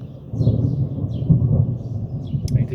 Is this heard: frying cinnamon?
no